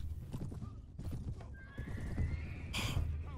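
A horse in the Mount & Blade Warband Perisno mod whinnies loudly over clip-clopping hooves, a rising neigh that swells near the end amid battle noise.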